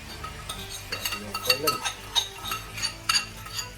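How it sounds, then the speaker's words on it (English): Pork belly bites frying in a pan with a sweet, spicy sticky sauce and chopped chilies, a soft sizzle under repeated clinks and scrapes of a utensil stirring against the pan, close up. "And let that simmer away."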